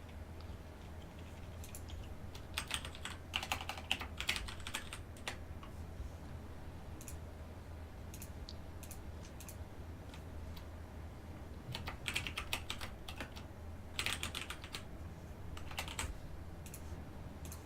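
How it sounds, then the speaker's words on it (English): Computer keyboards clatter faintly over voice chat during an online Town of Salem game, in two short flurries of rapid key clicks separated by a steady hiss. "I think I hear both of your keyboards."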